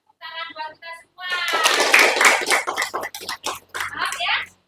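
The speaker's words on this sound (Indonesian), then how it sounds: "Tepuk tangan buat kita semua." Students in a classroom clap their hands together in a patterned rhythm amid chanting voices, with a teacher's voice heard before the clapping begins.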